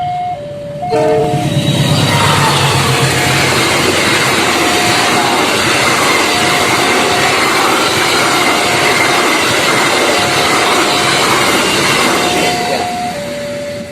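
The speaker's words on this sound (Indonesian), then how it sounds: "Kita saksikan kereta lewat." A train rumbles steadily past at close range for over ten seconds, loud and continuous, with a level-crossing bell or tone pulsing at the start and end.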